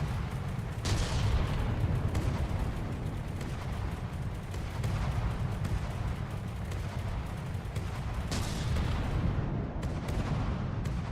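Heavy ship weapons fire nonstop in the naval combat game From The Depths, a dense, loud roar of booming cannon and gunfire with sharper blasts standing out now and then.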